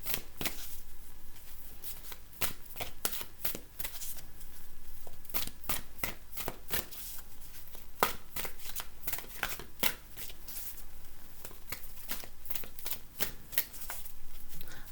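Angel oracle cards being shuffled by hand, a steady run of crisp riffling and flicking bursts that repeat nearly without pause, close and fairly quiet, with no talking.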